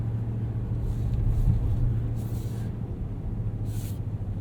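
Steady low engine hum and road rumble from a 2018 Ram 1500 Sport Crew Cab 4x4 pickup driving on a winter road, with a few soft hissing swells over the continuous drone.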